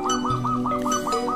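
A perkutut zebra dove coos in a quick, repeated rhythm of soft, ringing notes, heard close and clear with a faint whistle-like tone underneath.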